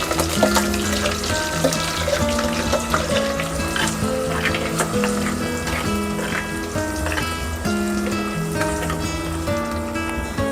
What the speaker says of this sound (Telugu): ఆనియన్ టమాటా ఇది కొంచెం పచ్చి వాసన పోయేంత వరకు ఫ్రై చేసుకుందాం ఆయిల్లో మంచిగా